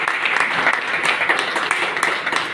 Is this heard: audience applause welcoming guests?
yes